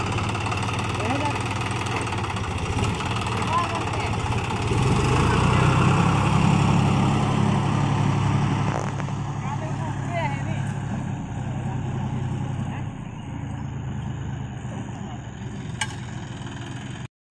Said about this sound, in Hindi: तो ये हम लोग का ट्रैक्टर आ चुका है